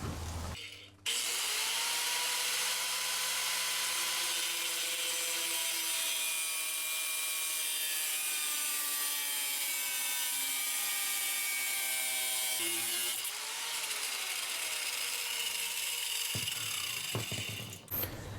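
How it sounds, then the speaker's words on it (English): Metal leg of a Pletscher double-legged bicycle kickstand being cut down with a hand saw, a long continuous close rasping stroke sequence of rising and falling pitch, then a short pause and a few final strokes. "I think I'm gonna cut the leg down a little bit."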